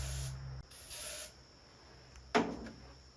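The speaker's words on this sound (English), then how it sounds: "I am going to give it a shot of carb cleaner." Carb cleaner sprays from an aerosol can into a Jeep engine that has sat unused for months: two close hissing bursts back to back, then a quieter short spritz a moment later.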